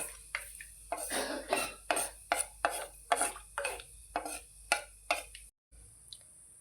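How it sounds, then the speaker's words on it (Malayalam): Cinnamon and cloves are stirred in a pan for a Kerala jackfruit curry, with a spoon scraping and clinking against the metal in a steady series of strokes, close and fairly quiet, then a brief gap of silence. "കറുകപ്പട്ട ഇട്ട് കൊടുക്കാം. ഇത് നമുക്ക് ഇളക്കി കൊടുക്കാം."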